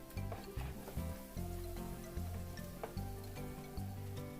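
Ginger drops into hot oil with golden toasted garlic for Ilonggo-style chicken adobo with atsuete, a soft, quiet sizzle under light background music.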